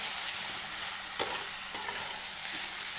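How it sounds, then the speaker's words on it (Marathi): Stuffed brinjals fry steadily in a pan of oil with homemade spices, giving a dense, continuous close sizzle broken by a few soft scraping stirs. "ह्याला सुद्धा वांग्यांना छान परतून घेते बघा"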